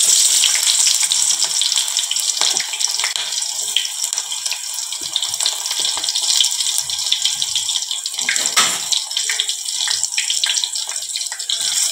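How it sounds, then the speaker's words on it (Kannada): Chopped onions drop into hot oil in a home kitchen, giving a loud, continuous bright sizzle with crackling spits, steady and close. "ಉಳ್ಳಾಗಡ್ಡಿನ ಹಾಕೋತೀನಿ ನೋಡ್ರಿ"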